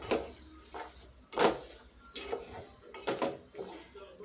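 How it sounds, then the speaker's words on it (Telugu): Cucumber chutney mixture with salt and turmeric frying in a pan, with soft sizzling and repeated scraping stir strokes of a spoon against metal, close and fairly quiet. "ఇప్పుడు మొత్తం కూడా మంచిగా ఫ్రై చేసేసుకోవాలి"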